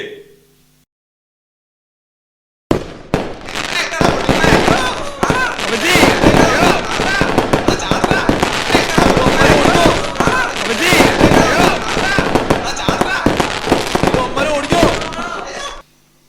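Firecrackers go off at a Christian wedding celebration, a dense, loud, continuous string of sharp cracking pops lasting over ten seconds after a brief quiet start, with voices mixed in.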